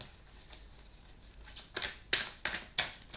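Tarot or oracle cards being shuffled and drawn during a card reading, a series of crisp papery flicks and snaps growing louder and more frequent toward the end, close by with no talk.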